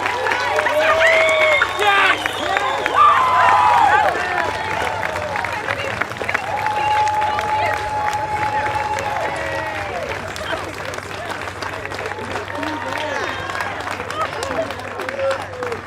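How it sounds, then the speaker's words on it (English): Sustained audience applause for graduating seniors at a school band concert, loud dense clapping mixed with crowd noise and scattered whoops, gradually thinning toward the end. "how about a nice round of applause?"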